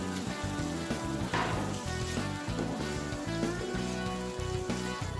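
Quail eggs sizzle and fry in thick masala gravy, a continuous crackling hiss with bursts of spattering throughout, close and steady.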